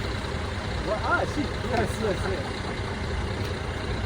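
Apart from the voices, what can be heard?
truck engine, riding inside the truck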